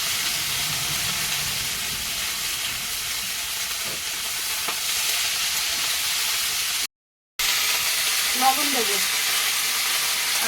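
Eggplant fries in hot oil with whole cumin seeds, giving a loud, steady sizzle and hiss that fills the sound closely, broken only by a brief dropout to silence.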